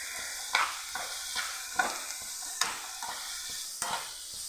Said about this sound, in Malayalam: ഇതിലേക്ക് ഒരു അല്പം ഉപ്പും കൂടെ ചേർത്ത് ഫ്ലെയിം ഒന്ന് കൂട്ടി വെച്ച് നല്ല പോലെ ഒന്ന് വഴറ്റിയെടുക്കാം